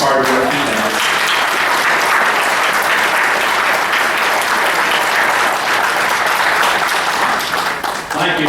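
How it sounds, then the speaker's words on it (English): Sustained applause from a crowd at a county Republican party convention, loud and steady throughout with dense clapping that eases slightly toward the end. "I'd love for us to give Pete a round of applause for the hard work he does."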